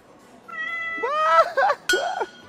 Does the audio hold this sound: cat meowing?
yes